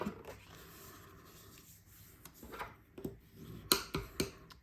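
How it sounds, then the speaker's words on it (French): Paper folds are pressed and creased by hand for a scrapbook album page, giving soft rubbing and sliding strokes that end in a few short, sharp crisp snaps, quiet and close. "Hop, je marque bien mes plis."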